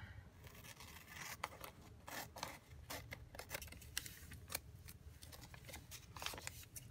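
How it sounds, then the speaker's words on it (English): Scissors snip through paper envelope flaps in a quiet run of close, small crisp cuts and rustles of paper, with no talking. "You cut this flap off and this flap off."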